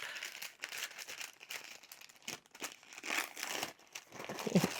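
Tissue paper crinkles and rustles as a small package is unwrapped, a quiet, continuous crackling with short sharper crumples and no voices.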